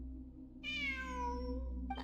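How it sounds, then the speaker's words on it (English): A cat meows in a video game, Genshin Impact-style ruins exploration: one long, clear, drawn-out meow with falling pitch over a steady low background hum, followed by a brief second sound at the end. "It really is a cat."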